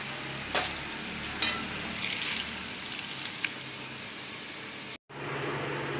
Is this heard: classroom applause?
no